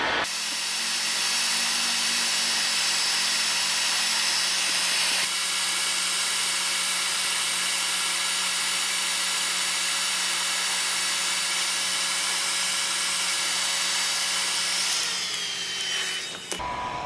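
A heat gun blows steadily while shrinking an Olsa Tools ratchet heat sleeve, making a loud, continuous close-up whirring roar with a constant whine that holds evenly and then winds down near the end.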